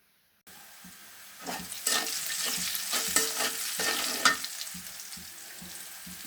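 Onions sizzling in hot oil in a home kitchen pan, cooked for a vegetable curry, with loud scraping stirs over a steady frying hiss, close up and with no talking.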